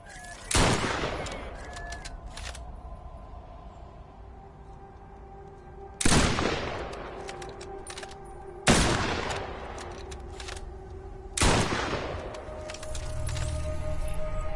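Gunfire from the zombie-shooter video game Killing Floor Incursion. Four sharp, loud bursts are spaced a few seconds apart, each trailing into a ringing decay over a low background hum.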